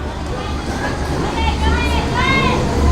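A train rumbles along the narrow Train Street in Hanoi, Vietnam, its low steady roar swelling under crowd chatter, with a few brief whistle-like tonal squeals rising near the end.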